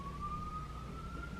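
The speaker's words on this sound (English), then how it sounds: "There's sirens." A single emergency vehicle siren sounds from outside, a steady rising wail heard at a distance over a low background hum.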